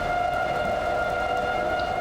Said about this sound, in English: The sound of tornado sirens filled the air